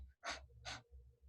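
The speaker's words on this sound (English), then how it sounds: "This is called panting." Two or three heavy, breathy pants come close together, loud and near, with brief pauses and a low background hum.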